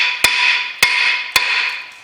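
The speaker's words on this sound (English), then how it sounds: "Now a few taps of the hammer." Three sharp metallic hammer taps on a rusty front brake disc of a 2011 Ford Mondeo Mk4, evenly spaced about half a second apart, with a bright ringing tone sustaining between strikes.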